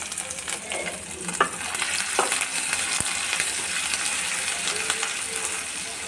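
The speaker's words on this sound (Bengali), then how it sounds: "এই আদাটাকে এর মধ্যে দিয়ে দিয়ে একটু করে নাড়তে থাকবো" Grated ginger sizzling among frying cumin seeds in hot oil, a steady bright crackle with occasional scrapes and one sharp metallic clink as a spoon stirs the pan, close up and alone.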